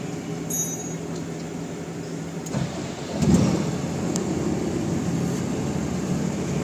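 A Mahindra Blazo BS6 truck diesel engine idles, then is revved once to a thicker, louder roar that settles into a steady higher hum, heard close with no speech.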